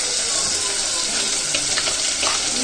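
Curry leaves dropped into hot oil for a quail gravy hiss and crackle in a steady, loud sizzle with a few sharper pops, up close and without speech.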